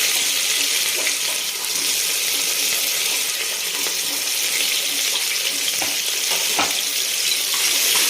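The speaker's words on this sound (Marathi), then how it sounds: "खिचडी तुम्ही एकदम छान होते कांदा टाकते" Onion sizzling and frying in a hot pan while khichdi is being made, a steady crackling hiss throughout with a few sharp pops and clinks from stirring.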